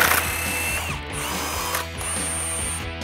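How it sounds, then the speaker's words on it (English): Cordless impact wrench removes 10 mm bolts from a 2013-2018 Ram truck grille, buzzing close and loud in continuous rapid hammering with short changes in pitch as it spins. "So I'm gonna use my cordless impact."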